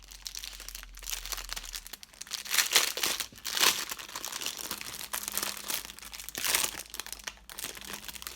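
Plastic packet of basic diamond-embroidery beads being opened, close crinkling and crunching of the wrapper in repeated bursts, with a few sharper tearing rustles.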